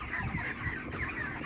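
Broiler chickens about 35 days old cluck steadily inside a poultry farm shed, a continuous close chorus of overlapping bird calls with no talk.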